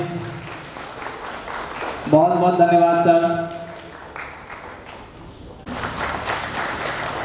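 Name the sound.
audience applause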